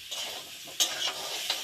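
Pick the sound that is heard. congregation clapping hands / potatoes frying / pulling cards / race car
potatoes frying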